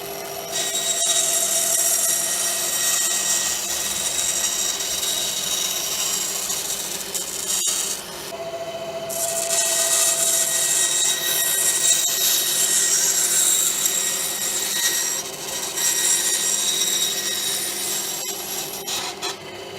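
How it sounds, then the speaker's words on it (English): A bandsaw runs along the edge of a piece of wood for a fishing tackle box, making a continuous high whine and grinding buzz with a steady hum. It dips briefly around the middle, then carries on close and loud. "It's just using the bandsaw to run down this edge and give me a nice clean cut."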